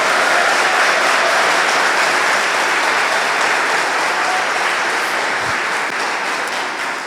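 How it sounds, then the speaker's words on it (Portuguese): Church congregation applauds God during a worship service with loud, sustained, dense clapping from a large crowd, steady throughout and easing slightly toward the end. "Vamos aplaudir o nosso Deus."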